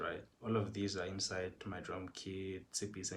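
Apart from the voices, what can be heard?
No everyday noise stands out behind the speech.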